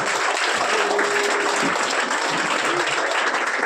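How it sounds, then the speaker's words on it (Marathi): A crowd applauds loudly and continuously at a Shiv Sena branch birthday celebration, dense clapping filling the whole moment without pause. "स्वागत करा, जोरात टाळ्या वाजवायच्या,"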